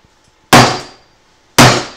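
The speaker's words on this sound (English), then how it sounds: "I should be able to just hit this with a hammer, and it'll come right out" Two sharp, loud hammer blows strike a wooden fence post about a second apart, each ringing briefly before fading.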